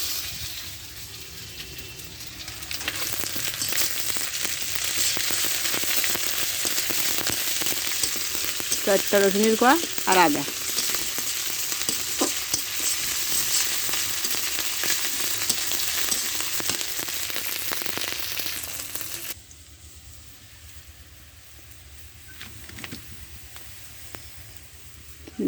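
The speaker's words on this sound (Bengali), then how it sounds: "দেন পেঁয়াজ রসুন আমার ভাজা হয়ে গেছে" Chopped onion with ginger-garlic paste fries in a pan for a catfish and potato curry. A loud, continuous sizzle with stirring scrapes runs through most of the clip, then drops sharply to a quieter hiss, with a brief spoken line.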